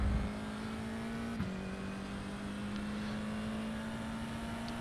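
A Formula car engine in iRacing at Monza holds a steady, loud high-pitched drone under acceleration, with a brief dip around a gear change before climbing smoothly again; no talk.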